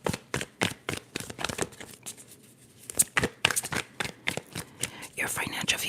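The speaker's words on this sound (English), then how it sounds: "So let's shuffle." Tarot cards are shuffled in quick crisp bursts of riffles and slaps, close and soft, with whispering alongside.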